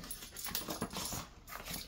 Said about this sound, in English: My dogs are really curious what's going on in here.